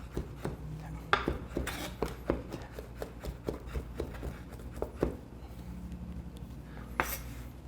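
A knife finely mincing meat on a cutting board during a cooking lesson. Quick, light, irregular taps and scrapes of the blade sound close and fairly soft, with no voice over them.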